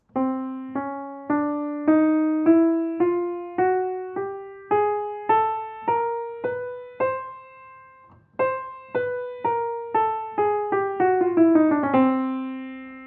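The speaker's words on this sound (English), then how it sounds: "That's a chromatic scale, moving by half steps." Piano notes climb steadily by half steps, one even note after another, then after a short pause descend back down, ending on a held low note.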